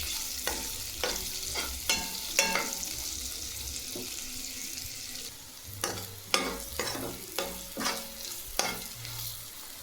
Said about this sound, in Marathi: मध्ये मध्ये परतायचं, हलवत राहायचं भेंडीला।